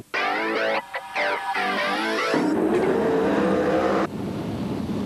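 Sprint cars race at Premier Speedway during the Grand Annual Sprintcar Classic, engines screaming loud and close as they pass in quick succession, pitch sweeping up and down, then fading into a lower, rougher roar.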